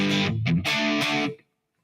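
Electric guitar played through a NUX MG 400 multi-effects unit with reverb stacked on reverb, a loud distorted chord phrase that cuts off sharply with only a short tail.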